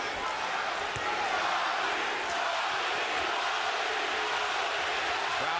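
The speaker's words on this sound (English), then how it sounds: "Crowd begins to chant," Boxing crowd at the Gatti vs Ward fight, a dense, loud roar of a large arena audience holding steady throughout.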